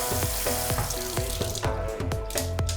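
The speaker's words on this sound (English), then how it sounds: "And I'll sprinkle a little bit of water." Water is sprinkled onto a bar of soap while makeup brushes are cleaned, giving a close, splashy run of repeated droplet impacts and trickling.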